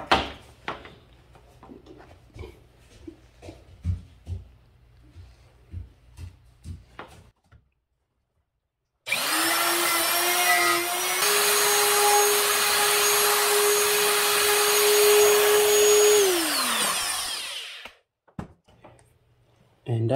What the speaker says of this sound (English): So now I can use my router and set it to. I have my router set.